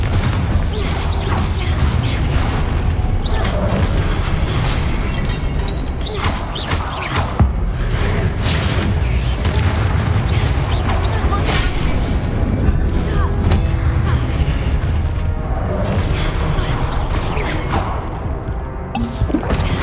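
Confringo explosion spell cast in the video game Hogwarts Legacy, amid a loud, dense stream of game effects with repeated crashes, booms and shattering impacts over continuous background sound, with no clear speech.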